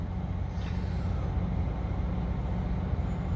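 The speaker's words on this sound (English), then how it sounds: "You'll probably hear some background noise of a truck" A constant low engine rumble with a steady droning hum, an idling truck heard from inside the cab with the window slightly open.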